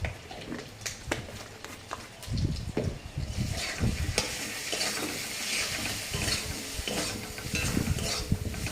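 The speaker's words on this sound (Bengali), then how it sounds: "এবারে নাড়ানাড়ির পালা" Spiced food being stirred in a pan like meat, a spoon scraping and clattering against the metal over a soft sizzle, close and uneven with bursts of activity, no one talking.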